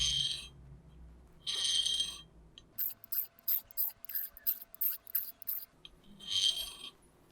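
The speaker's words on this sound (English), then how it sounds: "It's a little easier to keep the blade flat on the stone if you only go in one direction." A router plane blade is rubbed on a sharpening stone in one direction, giving a run of short, crisp metallic scraping strokes in a quick regular rhythm, close and fairly loud, with longer passes before and after the burst.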